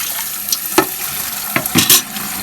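Water from a village filter tap runs into a small cooler, with a thin steady rush and a few brief splashy bursts close by.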